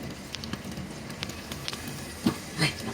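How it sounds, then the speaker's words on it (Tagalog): Food cooking for a Bicol dish pops and crackles, with scattered sharp snaps over a low sizzling bed and two louder pops near the end, close by and without talk. "Pakinggan nyo ang pumuputok."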